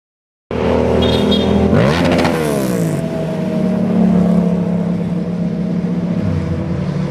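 A sport bike engine, likely a Yamaha FZR, revs hard near the start, its pitch climbing and then falling, before it settles into a loud, steady running drone that continues to the end with no talking.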